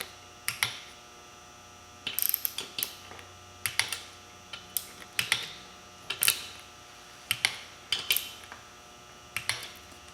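Repeated sharp metallic clicks from a torque wrench tightening bolts on beadlock rims for a 2003 Polaris Ranger 6x6, set to 10 foot-pounds; short bursts of clicks come every couple of seconds over a steady background hum.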